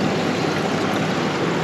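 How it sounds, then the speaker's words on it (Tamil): Water pours steadily from an aquarium filter into a home fish tank, a constant close broadband rushing and splashing that holds even for the whole moment with no voices. "இங்கே பாருங்கள் தண்ணி வருது பார்த்தீங்களா."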